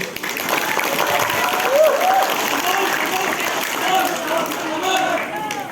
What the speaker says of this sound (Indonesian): Boleh kita tepuk tangan dulu